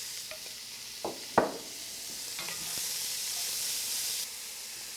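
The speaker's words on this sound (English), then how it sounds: "We're going to add the garlic and the onions." Garlic and onions sizzle in a hot pan for a jambalaya, a steady frying hiss with a couple of sharper stirring clatters near the start, no talk over it.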